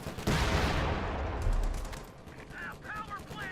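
Sherman tanks firing in a Company of Heroes 2 battle, a loud burst of heavy gunfire and rumbling blasts, followed by quieter game noise and a few faint chirps.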